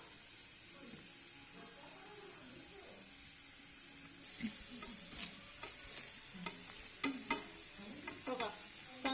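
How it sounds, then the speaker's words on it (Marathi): Thalipeeth (dhapate) dough is kneaded by hand, making faint, soft squishing and sticky slapping sounds that grow more frequent over a light background hiss. "बघा असं पीठ चांगलं मर्दून मळायचं म्हणजे एक नंबर थालीपीठ होतं."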